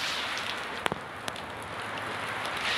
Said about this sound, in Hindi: हर जगह बारिश पड़ी है।